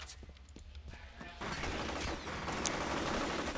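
Shotgun blasts in the video game F.E.A.R., a sharp crack at first, then a dense burst of loud gunfire and crashing debris filling the rest.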